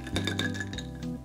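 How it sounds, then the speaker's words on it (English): A spoon gently stirs a whiskey cocktail in a glass, giving soft, close, ringing clinks that last only a moment. "Gentle stir."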